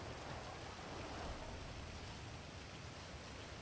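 Rain inside an online role-playing video game, a soft, steady, even hiss of falling rain at a low level with no speech.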